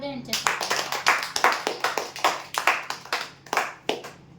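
Loud applause at a prize draw for a dressing table winner, a crowd clapping in dense bursts that swell and fade in quick waves for about four seconds, with a steady hum underneath.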